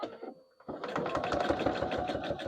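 A sewing machine runs in a steady fast rhythmic whir of stitching along the edge of a quilted project bag, close and clear, starting after a brief pause and continuing without talk.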